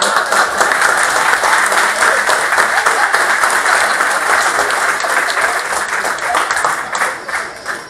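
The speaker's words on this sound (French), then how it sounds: "Je crois que ça mérite un applaudissement." Wedding guests applauding at Angélique and Stéphane's ceremony: loud, dense clapping from a crowd, sustained and then thinning toward the end.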